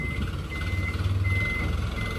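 Truck reversing beeper sounding a steady repeated tone while the vehicle backs up through deep mud after rain, with engine rumble underneath.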